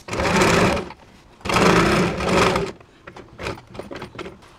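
A sewing machine stitches the neck of a blouse in two long runs of rapid whirring, then a series of short, stop-start bursts, heard up close.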